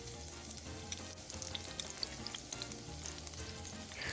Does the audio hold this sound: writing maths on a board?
no